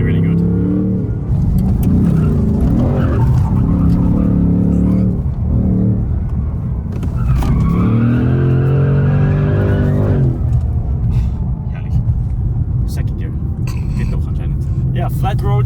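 A Ford Mustang Dark Horse drifts with loud engine revving and long, wavering tire squeals, the skids rising and falling close by, while a voice speaks intermittently over the noise.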